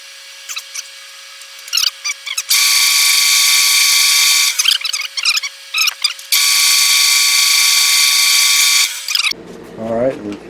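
A drill press bores holes in an air manifold, its steady high whine running in two long sustained stretches separated by brief clicks and handling noises, with a short burst of speech at the very end.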